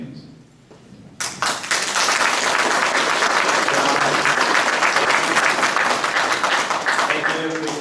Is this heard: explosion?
no